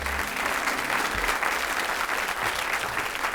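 Audience applause fills a live in-person radio interview event, a dense, steady patter of clapping from a sizeable crowd that runs throughout at an even loudness.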